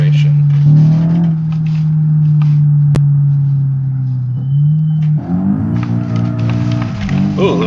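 A BMW M5 G90 drifting in the BeamNG driving game, its engine a steady loud drone that shifts in pitch as the car slides and accelerates, with a voice talking over it.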